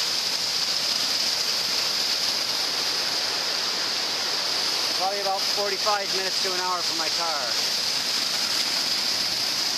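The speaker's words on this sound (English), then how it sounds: "Look at this waterfall at the bottom of the Gill Brook." Gill Brook's waterfall in the Adirondacks pours with a steady, close, broadband rushing roar, while someone talks briefly over it midway.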